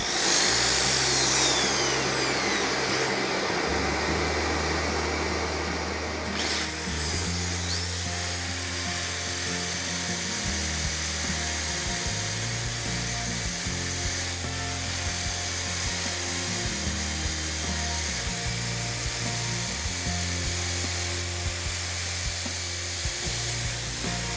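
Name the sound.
small sanding machine sanding spalted beech vase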